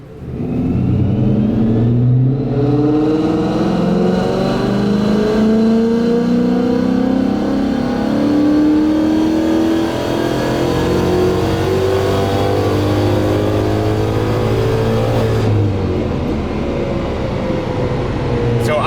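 Gen 3 Coyote V8 in a Mustang revving hard through a nitrous pull, a loud, steady roar with engine pitch sweeping upward across several gears, then easing off near the end.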